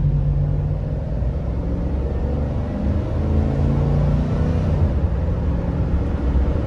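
A Chevy Express 2500 conversion van cruises and turns tightly, its engine giving a steady low rumble with road noise throughout, no voices heard.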